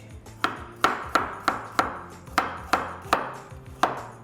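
A knife roughly chops carrots on a cutting board, about nine crisp, fairly evenly spaced strikes, close and clear with a soft low hum underneath.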